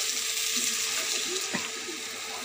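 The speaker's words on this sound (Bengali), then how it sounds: "এবারে জল দিয়ে দেবো পরিমাণ মতো, একটু গ্রেভিটার জন্য।" Water is poured into an egg and potato curry, a steady close hiss and splash of running liquid lasting a couple of seconds, with no talking.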